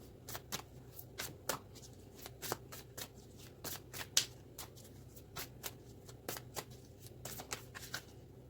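Oracle cards shuffled by hand, a steady series of quick riffling snaps and slaps at close range, quiet and without talk.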